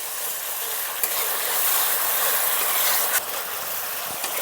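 Ginger and dried red chili paste fries with spices in a pan for a Bengali katla fish curry, giving a steady broadband sizzle with a few brief stirring clicks and no talk.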